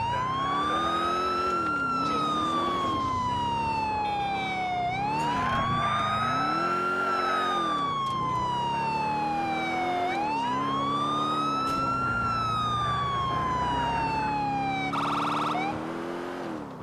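A police car siren in Grand Theft Auto IV wails continuously and loudly, sweeping slowly up and down in long cycles with engine noise beneath, cutting off at the end.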